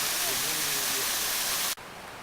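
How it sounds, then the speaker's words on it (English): Steady broadband rush of a waterfall on a burn during a hill walk in Glen Esk, constant and fairly close, cutting off abruptly near the end. "And just one of the waterfalls on the way down."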